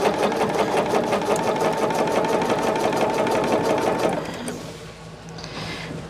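A sewing machine hums loudly and steadily while stitching quilt binding, running for about four seconds before winding down into quieter room tone.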